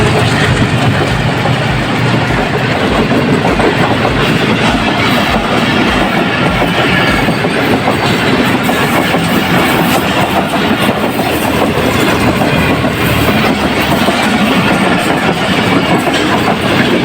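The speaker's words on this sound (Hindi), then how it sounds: "14 डाउन अवाम एक्सप्रेस कराची के लिए सामने आ गई है।" The Awam Express passenger train arrives at Begmanji railway station, rolling past close and loud for the whole stretch with a continuous rumble, rhythmic clickety-clack of wheels over rail joints and underlying engine drone, with no voices.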